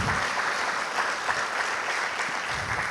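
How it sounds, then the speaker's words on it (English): Audience at a leadership-program graduation ceremony giving students a round of applause: steady, dense clapping from a crowd, moderately loud and sustained throughout. "I think they deserve a round of applause for coming on their own free time"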